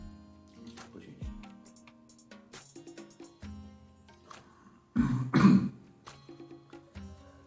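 A woman coughs and clears her throat once, a sharp loud burst after a few quiet shuffles and breaths.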